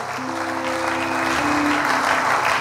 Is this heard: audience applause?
yes